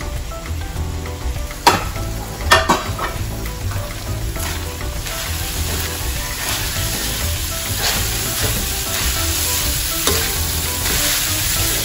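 Flaked milkfish (bangus) flesh frying and being stirred in a pan, a steady close sizzle with occasional scraping clatters of a utensil, loud and continuous without any voices.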